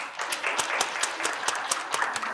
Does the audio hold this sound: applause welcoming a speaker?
yes